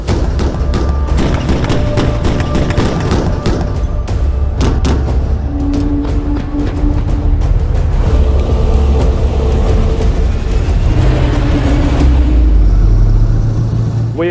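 Engine of a Redback or Lynx infantry fighting vehicle in a field trial, a loud, steady low-frequency drone that rises as it revs toward the end, with scattered thumps over it.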